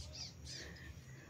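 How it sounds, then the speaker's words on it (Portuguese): Birds calling outdoors in the morning, two faint high calls in quick succession over a quiet background, distant and soft. "os pássaros chegaram."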